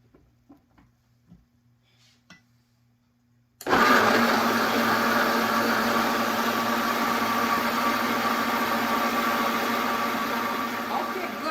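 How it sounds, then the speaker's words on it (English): Blender whirring as it mixes cornstarch into a vegan butternut squash sauce, starting abruptly after a few quiet seconds with faint speech, then running loud and steady for several seconds. "So we add our cornstarch to this and we are going to blend it"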